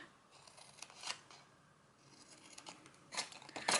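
A few quiet scissor snips cutting a small V notch into card for an Easter egg carrier, in two brief bursts with soft rustling between them, close up and with no talking.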